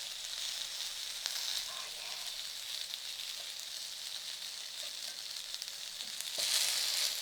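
Steak sizzles steadily on a ridged grill pan, a continuous bright hiss that swells louder near the end, with no talking.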